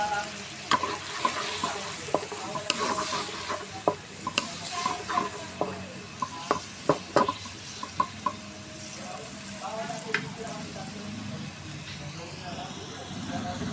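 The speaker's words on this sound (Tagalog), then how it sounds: "At haluin natin." Green chili and sauce stirred in a frying pan, a soft sizzle underneath with a series of sharp utensil knocks against the pan, as a person talks over the cooking.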